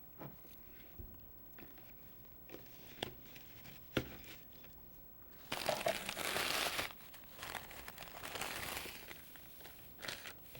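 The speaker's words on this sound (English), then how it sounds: "Add a gift and some shredder tissue to decorate the basket." Shredded tissue paper crinkled by hand while decorating a gift basket, soft scattered rustles and crackles, close and quiet, with a louder denser burst of crinkling midway.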